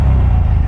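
Loud, close engine rumble from a Buell XB9SX motorcycle with a Harley-based V-twin, a dense continuous low throb that fills the whole brief moment with no talking.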